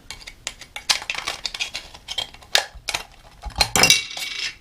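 Scissors snip through a thin aluminum drink can, producing a series of sharp, bright metallic crunches and clinks at close range, irregularly spaced with short pauses between cuts.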